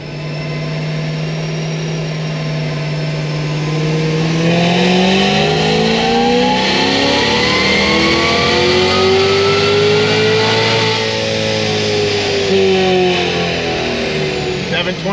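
A Cadillac CTS-V3 engine winds up hard on a dyno, a loud, steady rising rev that climbs in pitch, holds near full load and then eases off at the end.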